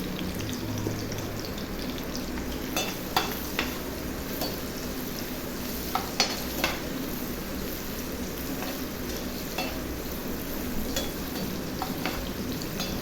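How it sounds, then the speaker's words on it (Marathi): Onions with a pinch of asafoetida sautéing in a pan, a soft continuous sizzle with scattered light crackles and occasional spatula scrapes, close and steady without talk. "कांदे चांगले परतत असताना त्यामध्ये थोडंसं हिंग घालायचं आणि पुन्हा कांदे चांगले परतायचे"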